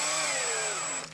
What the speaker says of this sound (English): trusty cordless drill.